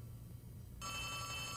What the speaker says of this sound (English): Oh, a phone is ringing?